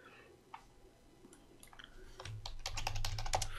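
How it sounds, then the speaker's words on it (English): Fingers typing on a computer keyboard at close range, quiet at first and then growing into rapid, dense key clicks with no talking. "So we might just type in Adobe. Just type into here, Adobe Express."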